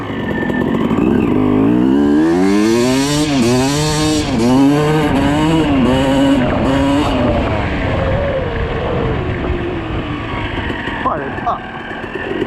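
A 2006 Suzuki RM250 two-stroke motocross bike engine runs loud and close, revving up and down in rising and falling sweeps before settling toward a steadier idle, with people talking faintly in the background.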